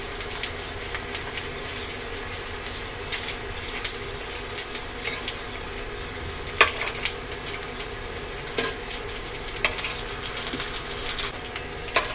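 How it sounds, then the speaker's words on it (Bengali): Dried jackfruit-leaf papad frying in hot oil in a pan, a steady soft sizzle with scattered crackles and pops, alone and fairly quiet throughout. "কাঁঠালের পাতার যে পাঁপড়গুলো বানিয়েছিলাম সেগুলো শুকিয়ে গেছে। এখন এই যে ভেজে নিচ্ছি।"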